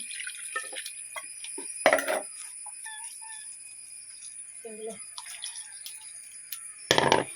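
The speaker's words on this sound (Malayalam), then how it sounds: "കുറച്ച് വെള്ളം കൂട്ടി കൊടുക്കാം ഇത് ചാറ് കിട്ടാൻ" Water is poured into a thick Malappuram-style curry to thin the gravy, heard as faint, scattered splashes and drips with a couple of louder pours in a quiet kitchen.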